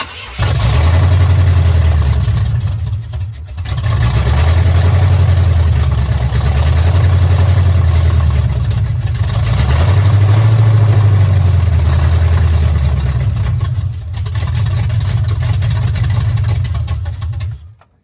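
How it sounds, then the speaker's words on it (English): Old Chevrolet C10 truck engine with a carburetor cranks, starts and idles with a skipping misfire, a loud close low rumble pulsing unevenly, with brief drops where it stumbles or cuts out. "I think it likes that carburetor. It's definitely skipping."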